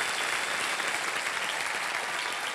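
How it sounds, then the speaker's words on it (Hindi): A studio audience on the KBC game show claps in sustained, dense applause, steady and fairly loud throughout, with no voices over it. "तालियां बजा इनके लिए"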